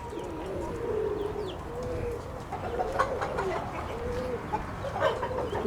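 White homing pigeons coo softly in a loft in Florida, a low, rolling murmur with scattered clucks and bird calls layered over a steady background hum.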